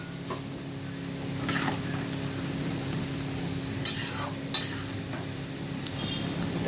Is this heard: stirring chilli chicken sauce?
yes